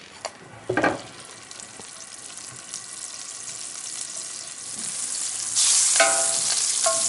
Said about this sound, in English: I'm just going to add some extra virgin olive oil and a little bit of unsalted butter.